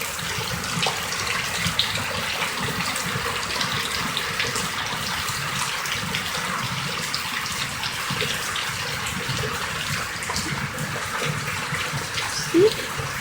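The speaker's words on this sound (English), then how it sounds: "But this rain is kind of cold." Cold rain falls steadily outdoors, a dense, even wash of patter and splashing with moving water, continuous and fairly close for the whole stretch.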